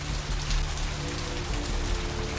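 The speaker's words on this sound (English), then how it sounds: "Standing undercover in the rain." Steady rain falls and patters on hard surfaces on a city street in the Vampire: The Masquerade - Bloodlines video game. The hiss is close and continuous, with a low hum of ambience underneath and no talk.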